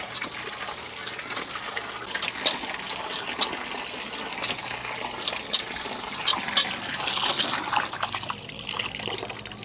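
Water is pumped in a steady gushing stream to rinse freshly cleaned fish, splashing and trickling close by for several seconds with occasional louder spurts.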